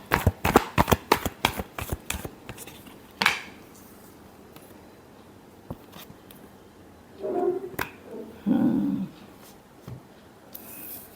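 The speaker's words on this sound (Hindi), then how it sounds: "last shuffle" A deck of tarot cards is shuffled in a quick run of crisp riffling snaps, followed by a few slower card taps and soft rustling handling noises close by.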